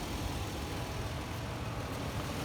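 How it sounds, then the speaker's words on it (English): A 2008 Toyota 4Runner engine idles steadily under an open hood, a continuous low rumble with faint ticking valve train noise layered on top, even and close with no talk. "My phone does pick up the small valve train engine noises, so it's not that the motor's knocking."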